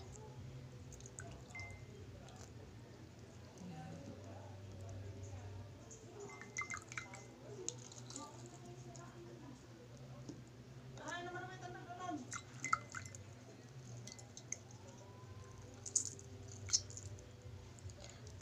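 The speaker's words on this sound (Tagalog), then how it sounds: "At ito po guys ay linalagyan ko ng 1/4 ng hot water." Hot water is poured into a cup holding lemon pieces, making a faint, soft trickle and gurgle over a low steady hum, with a few small clicks and drips.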